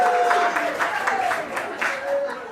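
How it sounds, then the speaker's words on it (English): Thin, scattered applause from a poetry slam audience, a few hands clapping unevenly for a couple of seconds with a voice talking over it. "These are such sad claps."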